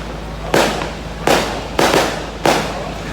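Fireworks sound effect: four sharp, loud bursts evenly spaced over about three seconds, each crack followed by a brief crackling decay, with no voices.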